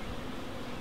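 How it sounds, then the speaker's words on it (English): Honey bees hum inside an open, full hive box, a dense, steady low drone held evenly throughout, quiet and with no talk over it. "That's what you call a full box of bees, isn't it?"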